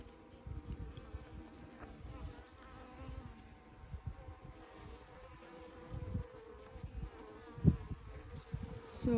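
Bees crowding a hive frame with freshly hatched brood make a soft, continuous close-range buzz that rises and falls, with occasional light knocks and handling noises and no talking.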